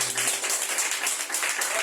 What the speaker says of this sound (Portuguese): E peço um aplauso forte e poderoso para esse Pai